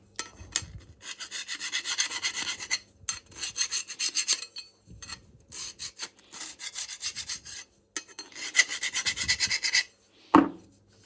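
Juuma No 4 bench plane shaving along a wooden workpiece in repeated rasping strokes, close and fairly loud, with short pauses between passes and a sharp knock near the end.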